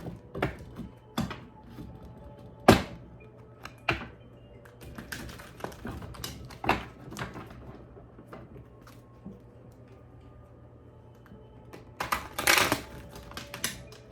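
A deck of sticky cards shuffled by hand, with sparse soft taps and riffles spaced through a quiet room and a louder burst of shuffling near the end.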